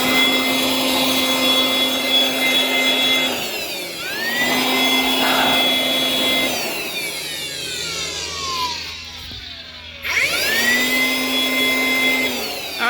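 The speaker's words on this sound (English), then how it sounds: "this can be a blower or a vacuum. And I've got it in vacuum mode right now." A battery-powered blower/vacuum running in vacuum mode, a loud high whine that spins down and back up several times, with pitch sweeping as the motor slows and restarts, close and alone.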